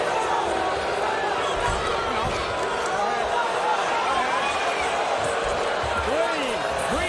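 A large arena crowd at an NCAA wrestling championship match lets out rising and falling groans and moans over a constant murmur, with distant thuds and voices mixed in.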